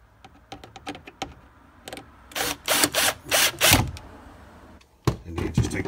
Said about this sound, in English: Go ahead and get that bolted on so we can see how this thing sounds.